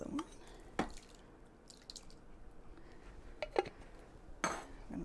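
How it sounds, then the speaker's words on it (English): Canned petite diced tomatoes tipped into a crock pot for vegetarian chili, a few wet plops and splats with sharp clinks of can or spoon against the pot, close by in a quiet kitchen. "We're gonna put in our tomatoes, 2 cans of tomatoes."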